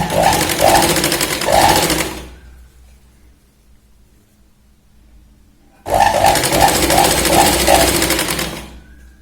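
A sewing machine runs in two loud, close bursts of rapid mechanical stitching along a fabric edge, separated by a few seconds of near silence.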